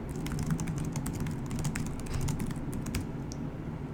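Someone types a title on a computer keyboard: quick irregular key clicks in a continuous run, close and crisp over a low steady room hum, with no talking.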